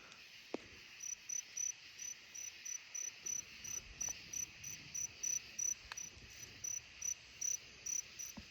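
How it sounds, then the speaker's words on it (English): A cricket chirps at night near a grandmother's house, a steady high trilling repeated in regular short bursts, fairly close and clear against a quiet background, with no voices. "Crickets in general are just harder to find than frogs and cicadas and all those other things"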